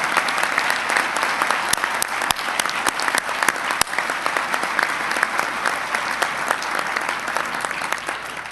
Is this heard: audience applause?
yes